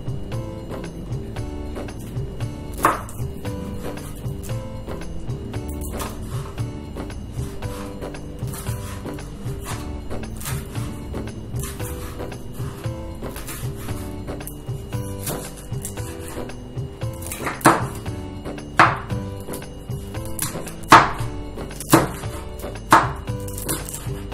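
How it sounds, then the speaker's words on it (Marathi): A knife chops raw ingredients such as chillies on a cutting board for a Bombay duck bhaji, sparse irregular taps through the first half, then louder, sharper chops bunching together near the end. "जेवढं काही आहे सगळं आपल्याला चॉप करून घ्यायचंय."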